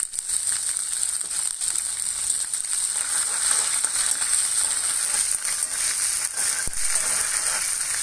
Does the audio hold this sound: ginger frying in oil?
yes